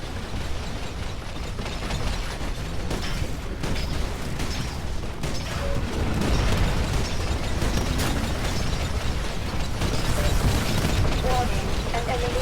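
Titan dropping from the sky and landing in the video game Titanfall, a loud, dense mechanical rumble with booming bursts and clanks, continuous and close throughout.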